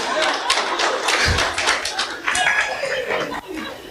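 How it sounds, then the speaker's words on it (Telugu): An audience claps during a spoken talk, with a scattering of sharp, uneven hand claps breaking through while a voice keeps speaking over them. "మీ పక్షంగా మాట్లాడుతున్న చప్పట్లు కొట్టండి."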